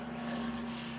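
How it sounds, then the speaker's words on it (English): A helicopter passes overhead as a steady, faint rotor and engine hum with a sustained tonal whine. "there is an helicopter passing"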